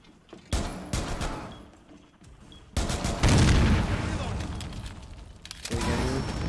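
Gunfire in the video game Apex Legends: several sharp shots and bursts, then a heavy booming barrage, with players talking over the action.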